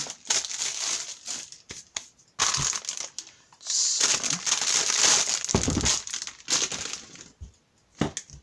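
Black paper from a new pack being handled for a mini album craft, with bursts of crinkling and crumpling rustle, some close and loud, separated by short quiet gaps.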